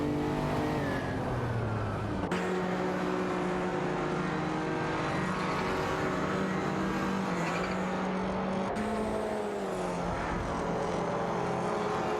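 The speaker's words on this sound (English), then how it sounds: "Mirasol is piloting a De Tomaso Pantera GT5S, while Quinoya is behind the wheel of a Lamborghini Countach" Racing-game engines of a De Tomaso Pantera GT5S and a Lamborghini Countach roar continuously and loudly, the pitch climbing and dropping with sharp gear shifts around two and nine seconds, with no talk.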